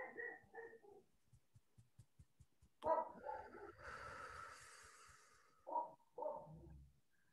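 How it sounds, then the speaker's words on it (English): Several dogs barking in short bursts, moderately close, with scattered snorts and breathing sounds in quiet gaps between the louder barks; no talk over them. "I don't know if you hear my dogs barking now too."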